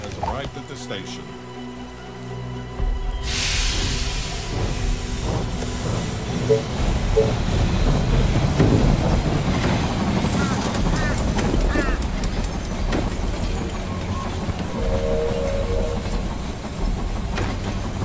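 A train pulls into a station in They Are Billions, a steady mechanical rumble and hiss rising after a few seconds and holding, with game voice lines spoken over it.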